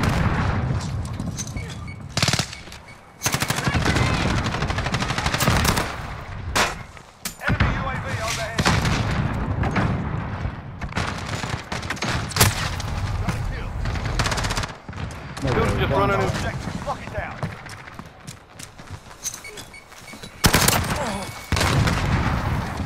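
Call of Duty: Modern Warfare gameplay, dense loud bursts of automatic and single gunfire with booming hits, near and constant, broken by brief pauses, with players talking underneath.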